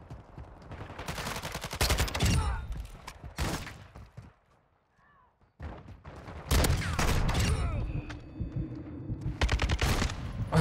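Loud video game gunfire in repeated heavy bursts of rapid shots, separated by a brief quiet lull, then resuming with dense firing.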